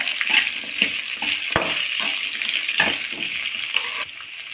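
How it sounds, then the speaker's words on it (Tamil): Finely chopped big onions sauté in a pan for a village-style kadamba coconut chutney, with a close crackling sizzle and a few sharp stirring knocks, steady for about four seconds before easing slightly. "பெரிய வெங்காயத்தை இது போல் பொடி பண்ணி போட்டுருங்க"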